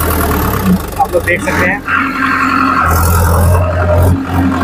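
A four-wheel-drive farm tractor's engine runs with a steady low rumble close by, while people talk over it throughout.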